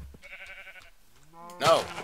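Sheep in Minecraft bleat in short wavering calls, a clear one at the start and a louder, closer bleat near the end, with a voice speaking over the game.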